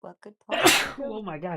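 One sharp, loud sneeze bursts out between a few spoken words, with talking right before and after it.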